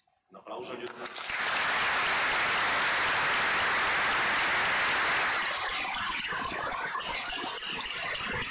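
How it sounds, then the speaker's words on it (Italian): Church congregation applauding, the clapping swelling quickly to a dense, loud, sustained roar and then thinning slightly toward the end. "Un applauso."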